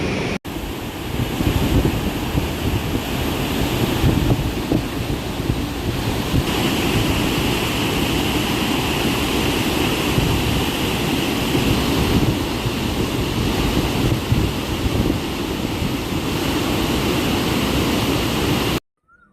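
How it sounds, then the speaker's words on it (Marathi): Water discharged through the 33 opened gates of the Gosekhurd dam during flooding roars as a loud, continuous broadband rush with wind buffeting, and no voices, ending abruptly. "या तिन्ही तेहत्तीसही दरवाज्यांना उघडण्यात आले असून मोठ्या प्रमाणावर पाण्याचा विसर्ग केला जात आहे"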